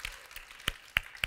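An audience on a Vietnamese TV matchmaking show claps, a handful of sharp, scattered claps spaced out over about a second, fairly soft.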